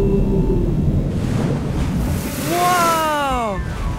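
In an animated children's show, a broad rushing whoosh of a gray whale's blow rises over steady wind and lapping water, followed by a brief high tonal sweep.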